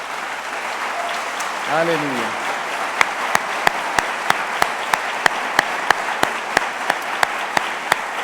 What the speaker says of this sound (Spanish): Démosle un fuerte aplauso al Señor, por favor.